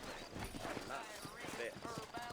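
Horses walking in the Red Dead Redemption video game, hooves clip-clopping in a loose, uneven rhythm under a voice talking over them.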